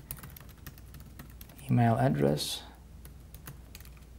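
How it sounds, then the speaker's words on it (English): Rapid clicking of computer keys runs steadily in the background while someone speaks over it near the middle. "I'm not really good at talking and typing at the same time"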